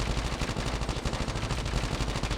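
An assault rifle fires in Call of Duty Mobile as one unbroken stream of rapid automatic shots, loud and close for the whole stretch, with no talking.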